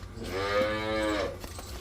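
A single long, drawn-out moo from a crossbred cow on a farm, loud and close, rising and holding steady before trailing off, with no talking.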